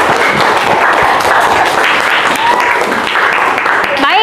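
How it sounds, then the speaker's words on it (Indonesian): A classroom full of students applauds a presenting student group, a loud sustained wash of clapping that runs steadily throughout with some voices mixed in. "kasih tepuk tangan untuk kelompok 5 ya."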